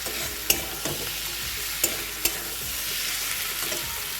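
Mutton fat frying with spice paste in a pan, a steady broad sizzle with a few sharp scrapes and clacks of a spoon as it is stirred, close and continuous with no voices.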